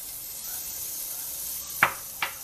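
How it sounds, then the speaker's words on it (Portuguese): Bacon and linguiça sausage frying in a hot pan for caldo verde give a faint, steady sizzle, broken by two sharp pops or spatters near the end. "Nós vamos dar uma dourada no nosso bacon e na nossa linguicinha, para ficar bem fritinho."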